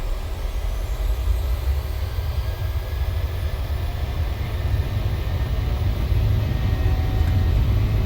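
A Ryanair Boeing 737 in a PMDG flight simulator spools up its jet engines for takeoff, giving a steady, heavy roar with deep rumble that swells slightly louder toward the end.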